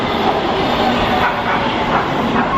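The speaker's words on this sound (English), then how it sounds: "And there's the train." A train arrives close by outside in Koreatown, Los Angeles, a loud continuous roar of wheels and rails with faint rhythmic clatter throughout.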